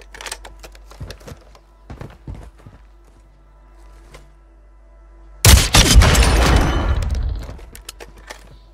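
A sniper rifle shot in Warzone 2, the FJX Imperium, cracks loudly at mid-clip and its booming report tails off for a couple of seconds, preceded by faint scattered clicks and footsteps.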